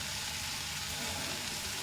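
Chicken masala for a village-style Malenadu egg and chicken sambar frying in a pan, a steady, close sizzle with bright crackling hiss and no talk over it.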